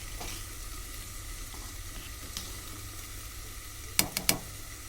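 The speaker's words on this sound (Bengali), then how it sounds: "এবারে ভালো করে একটু নাড়িয়ে নেবো দেখো আমার খিচুড়িটা প্রায় হয়ে এসছে" Vegetable khichuri sizzles softly in a pot as it is stirred, a faint steady bubbling broken near the end by a few sharp scrapes and clinks of the spoon.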